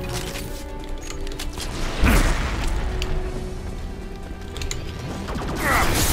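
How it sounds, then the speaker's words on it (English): An arc projector weapon fires at Geth in Mass Effect 2: a loud electric crackling burst with a heavy thump, over a busy mechanical combat din that keeps up throughout. "I love the arc projector when you're fighting Geth."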